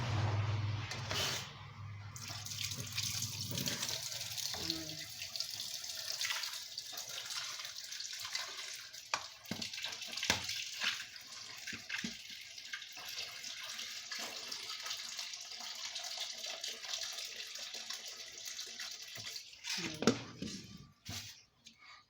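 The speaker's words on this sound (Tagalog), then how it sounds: "Lalagyan ko na siya ng tubig." Tap water runs steadily into a pot of shucked corn on the cob being readied for boiling, a continuous close splashing hiss with a few clanks of the pot and brief quiet speech.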